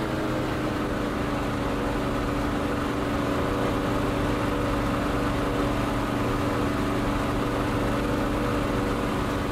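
Steady, dense engine drone of a Spitfire fighter at full throttle in a flight combat game dogfight against BF-109s; an unbroken, even roar throughout with no pauses or talking.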